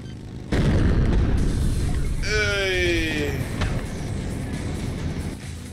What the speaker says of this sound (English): Sticky bomb for you.